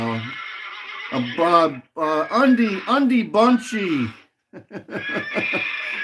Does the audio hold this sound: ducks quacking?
no